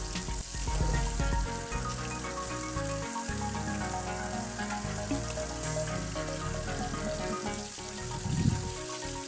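Tengra fish pieces frying in oil make a steady close sizzle with spitting crackles, heard under continuous background music with no speech.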